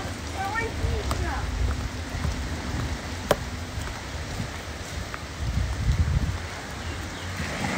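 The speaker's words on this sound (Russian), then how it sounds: "Дождик идет." Rain falling outdoors, a steady dense patter of drops on surfaces with occasional louder splashes, continuous throughout; a voice is briefly heard.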